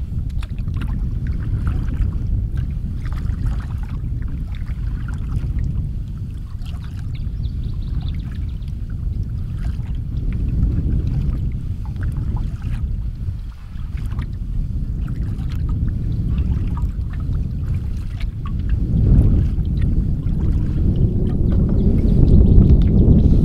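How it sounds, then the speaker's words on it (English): Wind gusting across a spring campsite, a heavy low rumbling buffet against the microphone that swells and eases in waves and grows stronger toward the end, with no talking. "the wind is here."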